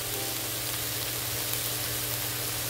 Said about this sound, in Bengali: আর এখন দিয়ে দেবো ঢেঁড়সটা পেঁয়াজের সঙ্গে হালকা ভেজে নেব